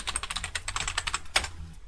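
Rapid, close keystrokes on a computer keyboard while a password is entered at a Linux terminal, a quick uneven burst of clicks with a sharper tap near the end, no speech.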